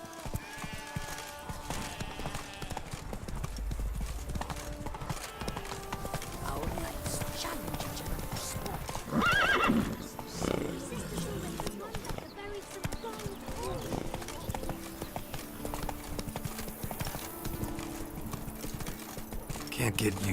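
Hooves of Roach, Geralt's horse in The Witcher 3, clop steadily over ground while a man and others converse over them, with a brief louder burst midway amid a busy game soundscape.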